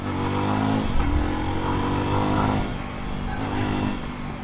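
A Jawa 42 motorcycle engine rises and falls in pitch under repeated throttle, revving up as the bike accelerates on an open road.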